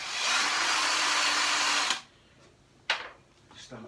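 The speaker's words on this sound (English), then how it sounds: "let's get my pistol drill with my coarse sisal cutting wheel on it" A cordless pistol drill fitted with a coarse sisal wheel whines loudly for about two seconds while polishing a Honda CB motorcycle engine, then spins down, followed by a couple of short, fainter bursts as it sputters out on a dying battery.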